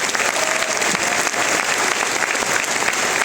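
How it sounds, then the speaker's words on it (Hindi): An indoor audience at a Modicare corporate event bursts into steady, dense applause that carries on evenly throughout, loud and close, with faint crowd murmur underneath. "अभी तक आप किसी और के लिए ताली बजा रहे थे, एक बार अपने लिए ताली बजाइए।"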